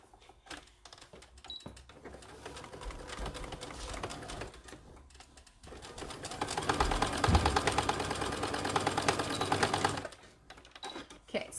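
A sewing machine runs in bursts as it stitches the corners of a white fabric piece for a zipper pouch, close and steady, with short pauses between runs and a longer, louder stretch near the end.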